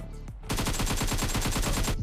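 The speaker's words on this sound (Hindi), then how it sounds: "वेल सामने से भी फायरिंग हुई थी" Rapid automatic gunfire in the PUBG battle game rattles off in a fast, even burst of close, loud shots lasting over a second, preceded by a single sharper crack.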